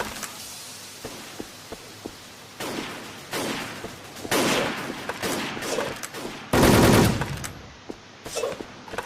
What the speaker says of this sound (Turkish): Biri bir yerden tarıyor ama sesler geliyor.